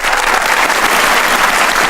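Audience applause at a Hindi-Urdu poetry recitation, loud and dense, a sustained wash of clapping from a crowd filling the whole moment without any speech over it.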